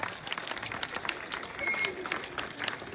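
Audience clapping at a political rally in Armenia's Syunik region, a moderate burst of applause from a crowd, fairly distant and steady.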